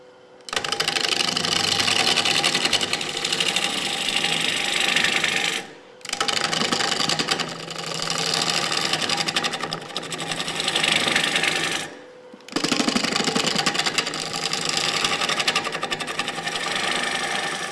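Wood lathe rough turning a live edge bowl: a loud, rough grinding roar of the gouge cutting spinning wood, broken by two brief pauses before resuming, the tone strengthening as speed increases.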